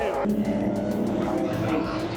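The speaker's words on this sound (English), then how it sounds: "these are like vintage sprint cars, old school V8s" Vintage sprint cars with old-school V8 engines racing on Madera Speedway, heard from right beside the track going into turns one and two as a loud, continuous engine roar.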